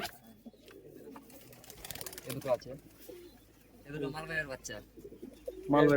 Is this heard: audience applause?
no